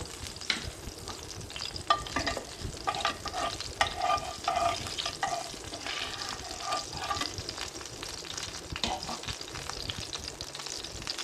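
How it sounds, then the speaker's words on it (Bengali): Whole cumin seeds tempering in hot oil in a wok, a faint steady sizzle with crackles and the scrape of stirring, no voices. "কড়াইতে যে আমার তেল ছিল, সেই তেলের ভিতরে আমি এখন আস্ত জিরা"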